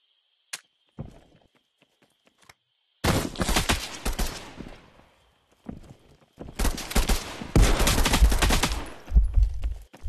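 Gunfire in the VR battle royale game Contractors Showdown on Meta Quest 3: a single early shot, then two long bursts of rapid automatic fire, loud and close, separated by quieter gaps with faint clicks.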